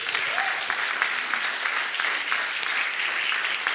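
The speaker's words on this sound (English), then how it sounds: "let's give them one more round of applause, folks" Steady, dense applause from a large audience honoring police officers at a January 6th remembrance event, continuous and fairly loud throughout with no speech over it.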